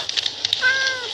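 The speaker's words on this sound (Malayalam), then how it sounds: "പൂച്ച" A cat meows once in the video game Minecraft, a short clear synthetic mew rising then gliding down, heard alone without talk.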